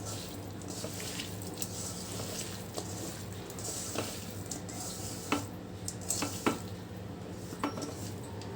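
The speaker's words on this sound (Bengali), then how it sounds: "এখন খুব ভালো করে মাখিয়ে নিব" Curry is mixed by hand in a bowl, giving quiet, soft squishing and rubbing with scattered light clinks against the bowl, growing a little busier toward the end.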